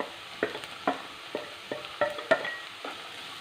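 A carrot, ginger and garlic paste sautés in a pan, with a low sizzle broken by repeated spatula scrapes and stirs at an irregular pace, close and alone.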